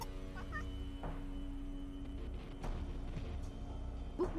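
A cat meows a few times in the point-and-click game Deponia 2: Chaos on Deponia, short clear calls over a steady background hum.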